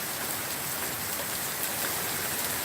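Steady, dense rain pours down during a thunderstorm, heard from a front porch as an even, continuous hiss with no distinct thunder and no talking.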